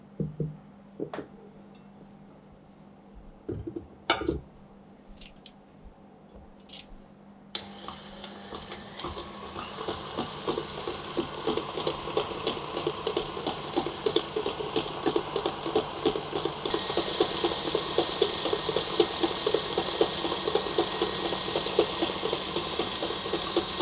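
Electric mixer beating butter and sugar for eggless tart dough, starting after a few scattered clanks and then running steadily with a loud whirring hiss and rapid rattling that grows a little stronger toward the end.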